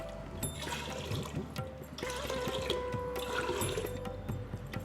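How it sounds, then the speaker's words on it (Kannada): Water, about six cups measured against toor dal, poured into a pressure cooker for bisibelebath, giving a continuous close trickle and gurgle that shifts in pitch as the cooker fills. "ನೋಡಿ 6 ಕಪ್ ನೀರು ಹಾಕಿದ್ದೀನಿ."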